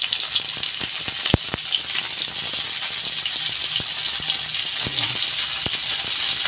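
Chopped tomatoes sizzle steadily in a hot frying pan for a galunggong dish, a loud constant hiss with occasional sharp pops and utensil clicks.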